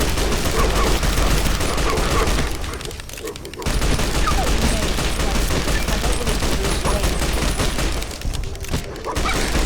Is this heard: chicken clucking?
no